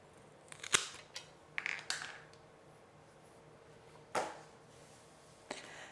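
Scissors snip a damaged leaf from a houseplant that was grown on moss poles. There are several short, crisp, close cuts spaced irregularly across a quiet room.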